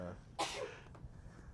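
A single sharp sneeze bursts out close to the microphone in a quiet room, followed by faint low sounds.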